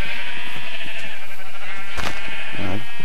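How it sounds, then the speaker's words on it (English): Minecraft sheep bleat close by, one drawn-out nasal bleat running into a second shorter one near the end, loud and clear with no talk over them. "There's a few sheep here."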